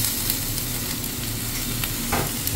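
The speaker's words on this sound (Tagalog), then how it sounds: "Ilagay na natin yung cooking wine saka yung sesame oil." Cooking wine and sesame oil hit a hot pan, setting off a loud, dense, continuous sizzle with light stirring scrapes, close by and without any talk.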